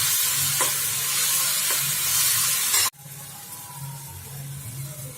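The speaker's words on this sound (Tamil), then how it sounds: "தக்காளி நல்லா வதக்கணும்." Tomatoes for a chutney sautéing in an oiled pan, giving a loud, close, continuous sizzle with a few faint stir knocks, which drops suddenly midway to a quieter, softer hiss.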